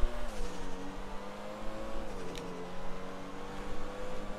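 A car drifting in a video game, its engine droning steadily with rising and falling pitch through the slide and no voices over it.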